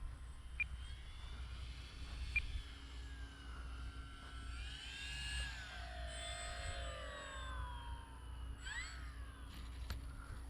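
A small RC model airplane's propeller engine drones and whines steadily, its pitch rising and falling as it flies past over a cow pasture, with constant wind noise rumbling underneath.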